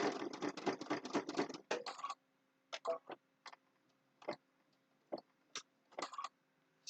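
A sewing machine with a twin needle stitches fabric bookmarks, a dense run of rapid mechanical ticking for about two seconds, then several short bursts of stitching separated by pauses, close and fairly quiet.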